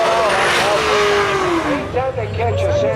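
A twin-turbo GT500 does a burnout at a contest, a loud roaring engine with rising and falling revs and tire noise, close by, while an announcer talks over it.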